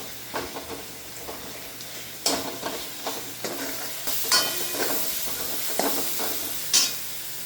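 Tomato and onion frying in oil for dal khichdi, stirred with a spoon: steady close sizzle with repeated scraping strokes and occasional louder clatters, no voices.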